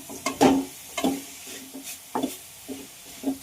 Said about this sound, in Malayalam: തീ കൂട്ടി വെച്ച് നമുക്കൊന്ന് തോർത്തി കൊടുക്കണം